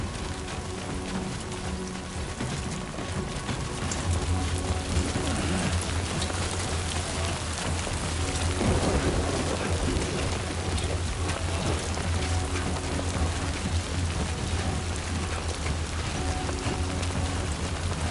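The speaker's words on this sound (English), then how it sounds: "I know what that is. Rain." Steady rain pours down in the video game Death Stranding 2, a dense, continuous hiss of drops on surfaces with a low rumble underneath, loud and unbroken throughout.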